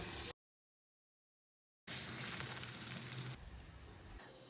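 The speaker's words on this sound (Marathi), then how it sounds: "आता अशा सगळ्या पुऱ्या तळून घेते." Mango puris deep-fry in hot oil with a dense, steady sizzle and crackle, heard close and alone in two stretches separated by a silent gap.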